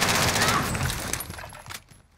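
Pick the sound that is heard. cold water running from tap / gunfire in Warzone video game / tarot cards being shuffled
gunfire in Warzone video game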